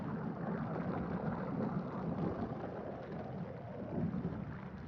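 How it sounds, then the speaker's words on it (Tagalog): Heavy rain from a super typhoon pours down at night in Arayat, Philippines, in a dense, even hiss, with low rumbling underneath, continuous and fairly distant. "Malakas ng ulan dito sa Arayat."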